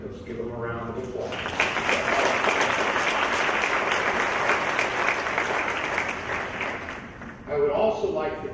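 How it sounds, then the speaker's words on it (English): Audience applause fills a hall during a high school hall of fame ceremony, a steady dense wash of clapping lasting several seconds, with a voice speaking briefly before it starts and again as it fades. "Let's give them a round of applause."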